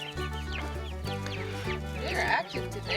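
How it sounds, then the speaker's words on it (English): Backyard chickens freshly let out of their coop in the morning, clucking and squawking together in a busy, continuous chorus close by, with a faint voice underneath. "as soon as I let them out, they all ran outside the coop, and they're doing chicken stuff"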